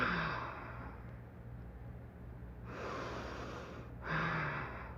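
Deep breaths taken while holding a shoulder stand in a relaxing yoga class: a long airy exhale, then a pause and two more soft breaths, close and quiet in a calm room.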